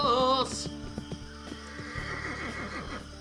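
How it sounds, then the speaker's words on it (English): A horse neighs loudly in a video game, a sharp whinny at the start. Clip-clop hoofbeats and other game sounds follow behind it. "'cause I'm riding on a horse. Great big fucking horse."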